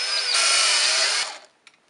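A handheld power drill bores a hole for a tricopter yaw mechanism mount, a steady high whine held for about a second before spinning down, close and loud, with no talk.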